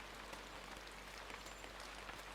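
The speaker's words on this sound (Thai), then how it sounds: "ก็คือฝนตกด้วยครับ" Rain falls steadily in the video game INSIDE, a soft, even hiss with faint scattered droplet ticks, quiet and continuous throughout with no talking.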